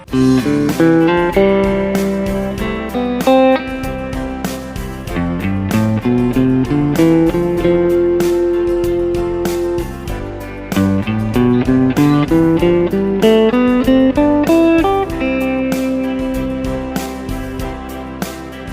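An electric guitar plays flowing melodic modal scale runs over sustained chords, steady and clear with no talking.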